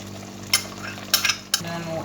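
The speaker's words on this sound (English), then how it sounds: "So we'll go ahead and add our palm oil." Palm oil going into a pot for Nigerian okra soup with tilapia gives a soft sizzle and stirring, with a few sharp clinks of a utensil against the pot standing out over a low steady hum.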